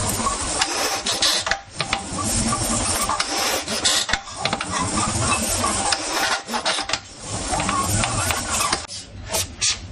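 The Reeler, an automated sheet end tidier with a ratchet, runs aboard a sailing boat during a jibe, giving a loud, steady whirring and clicking mechanical drone with brief dips partway through.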